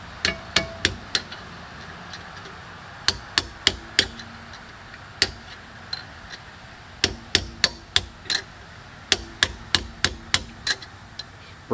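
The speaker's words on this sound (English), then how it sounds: "I'm gonna do it with the hammer." Sharp hammer blows ring out in irregular bursts, some quick doubles and triples, struck close and loud with brief pauses between, during a limited-slip rear-end swap on a 1984 Ford Mustang GT350 Foxbody.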